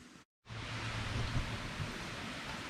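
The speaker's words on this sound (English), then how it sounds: "It is hot, humid, and it just started to rain." Steady, even hiss of falling rain, continuous after a brief cut of silence at the start, with no voices.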